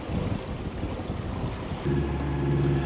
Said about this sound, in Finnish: moottori on meillä käynnissä, kun loppu tuuli kokonaan